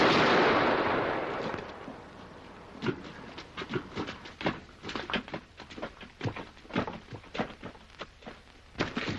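A musket volley from a firing squad in a 1946 period film, heard as a burst followed by a run of sharp separate cracks and thuds, fairly close and spread over several seconds, with no talk.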